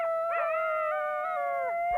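A coyote in Yellowstone National Park howls in a long, wavering, rising-then-sustained call with harmonic overtones, close and clear against a quiet background, with no talking.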